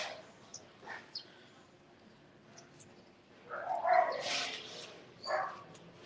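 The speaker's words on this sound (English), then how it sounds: "there's some dogs making a noise" A few dogs bark and yip at a distance at a 14th-century temple site, short bursts clustered near the end over a quiet background.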